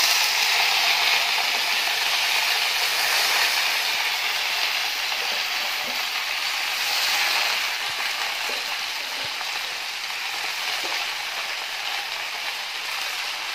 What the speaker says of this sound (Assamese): এয়া লাই শাক দি দিছো কেৰাহীতে